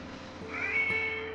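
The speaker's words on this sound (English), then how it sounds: "There is a new male cat calling for fight." A male cat yowls in a garden, a drawn-out wavering call sustained for a moment at moderate distance over a faint background hum.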